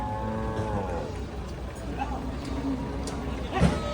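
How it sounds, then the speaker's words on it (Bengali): A cow lets out a drawn-out moo near the start, amid a noisy crowd with people talking nearby at a cattle market ahead of Eid al-Adha. "মাশাল্লাহ সুন্দর একটি গরু"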